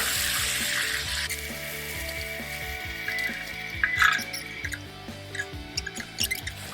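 Fish frying in a pan after being flipped, a steady hissing sizzle with sharp crackles and pops, close and continuous with no talking.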